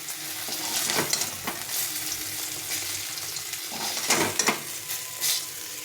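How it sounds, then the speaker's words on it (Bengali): Pieces of fish sizzle and crackle in hot mustard oil in a pan, a constant close frying hiss with a few louder spattering bursts as they are stirred, with no talk. "সুন্দরভাবে ভাজা হচ্ছে মাছগুলো"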